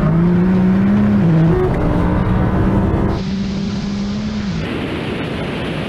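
A 1600 horsepower tuned Nissan GTR in a rolling drag race in third gear, its engine droning loudly at close range, with the pitch rising steadily and dipping briefly at a shift, and wind roar behind it.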